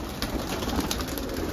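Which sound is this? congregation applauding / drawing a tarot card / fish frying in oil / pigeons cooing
pigeons cooing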